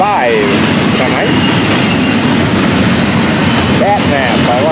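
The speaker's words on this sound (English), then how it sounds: "We'll watch this train come past the junction where we'll look for FEC's 105 tonight." An FEC freight train rolls past a junction at night, a loud, steady roar of railcars with rhythmic clickety-clack and brief high wheel squeals rising over the rumble.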